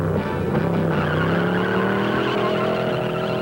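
A supercharged Studebaker Avanti II with a 327 Chevy engine launches hard with the clutch popped, and its rising engine note is joined by screeching tire spin as it pulls away. The sound is close and fairly loud.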